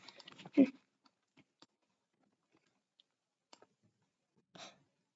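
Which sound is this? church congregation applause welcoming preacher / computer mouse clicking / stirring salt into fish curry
computer mouse clicking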